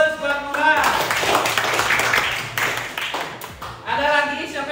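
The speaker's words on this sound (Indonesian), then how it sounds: "beri aplaus buat Murah" A classroom full of students applauding a classmate: a burst of dense clapping lasting several seconds, close and fairly loud, with voices mixed in underneath.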